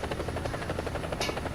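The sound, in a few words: helicopter flying in a video game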